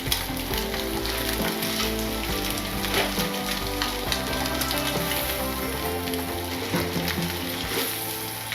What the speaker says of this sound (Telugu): బాగా వేపుకోవాలి.